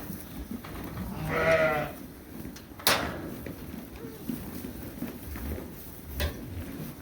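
Sheep bleat on a farm in autumn, with one clear, wavering bleat up close near the start. A sharp knock follows, like a gate or door. Barn-like background noise continues throughout.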